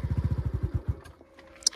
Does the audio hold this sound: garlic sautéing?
no